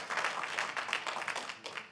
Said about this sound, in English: we're not supposed to do all that clapping